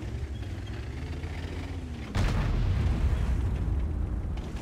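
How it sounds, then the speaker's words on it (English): A loud, close airstrike explosion in the World War II shooter Erlenberg map bursts in abruptly and rolls on as a sustained, heavy rumble. "Where was that airstrike? It was almost near me, I think."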